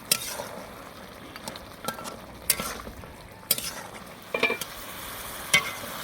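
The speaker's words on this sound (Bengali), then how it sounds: "লাউটাকে আমি মশলার মধ্যে সুন্দরভাবে কষিয়ে নেব" Bottle gourd and pumpkin bori frying in spices in a pan, a soft continuous sizzle broken by sharp clinks and scrapes of a spatula stirring every second or so, close up with no talking.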